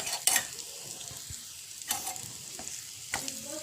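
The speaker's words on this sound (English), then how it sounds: "So now just roast it properly." Gram flour batter for khandvi being stirred and roasted in a pan on a gas stove, with a soft steady sizzle and several sharp scraping strokes of the spoon.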